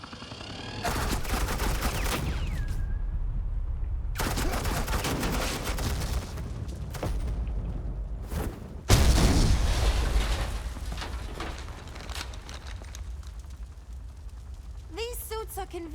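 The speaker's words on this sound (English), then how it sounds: "Suppressing fire." Sustained bursts of suppressing gunfire in Batman: The Telltale Series, loud, dense volleys across the clip with a sharp blast near the middle and game voices and effects mixed in.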